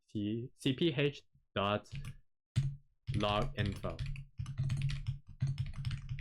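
Keyboard keys clatter in quick irregular bursts as C# code is typed on a computer keyboard, with someone talking over most of the typing.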